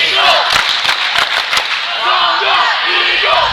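At a Canton at Watonga boys basketball game, the Eagles cheer squad rouses the student section: a loud, steady roar of crowd noise with sharp claps and shouts, mixed with voices throughout.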